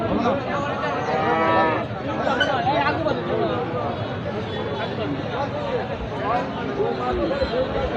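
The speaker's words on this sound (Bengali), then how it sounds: "গাই গরু" Cows moo again and again amid a busy crowd at the Lauhati cattle market in Delduar, Tangail, with loud chatter and many voices all around.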